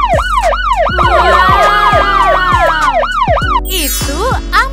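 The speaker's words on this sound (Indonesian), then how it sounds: "Itu ambulans. Ya, itu ambulans." An ambulance siren wails loud and close, its tone sweeping up and down in a steady repeating cycle before switching to a faster pattern near the end.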